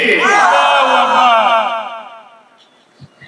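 A large crowd at a Bengali Islamic religious gathering roars the takbir in answer to a preacher's call, a loud sustained collective shout that swells and then fades out, leaving a near-silent tail.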